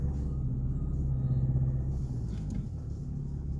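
Steady low engine rumble and road noise from inside a Volkswagen Passat B8 Alltrack 2.0 TDI with manual gearbox, driving calmly at an even pace, fairly quiet throughout.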